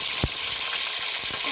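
Fenugreek seeds and curry leaves sputter in hot oil for a fish curry, a bright close sizzle with a few sharp crackles and a stirring scrape, no voices.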